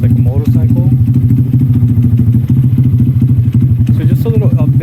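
A mini bike converted into a motorcycle putters loudly and steadily nearby with a rapid pulsing beat, with a voice speaking over it.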